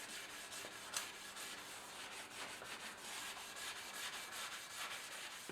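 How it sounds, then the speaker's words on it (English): Steady back-and-forth rubbing scrubs rust off a Honda Bros NT400 motorcycle exhaust header pipe with Harpic, producing soft, rhythmic abrasive strokes close up at a low, even level. "it's rubbing all the rust off"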